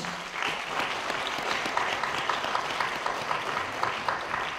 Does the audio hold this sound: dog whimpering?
no